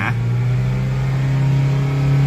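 A Honda Stream engine revs and holds near 3,000 rpm, a loud, steady, close-up mid-pitched drone with no speech over it.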